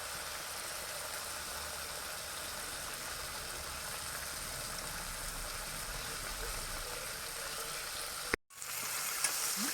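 Continuous hissing sizzle of an egg frying in hot oil, steady and fairly loud, cut by a brief silence near the end.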